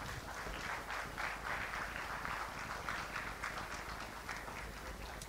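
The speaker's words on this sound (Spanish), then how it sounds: "Un aplauso" Sustained applause from an audience at a real estate expo talk in Paraguay, steady and fairly distant clapping with no voices, continuing evenly throughout.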